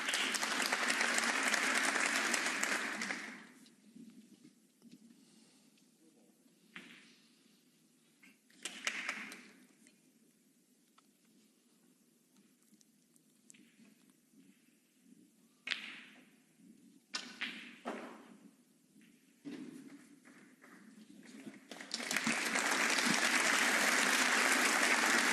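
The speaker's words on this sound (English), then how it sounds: "Some applause once again." Snooker crowd at the German Masters applauds in the arena, a loud steady round that fades to quiet with scattered thuds and claps, then swells again at the end.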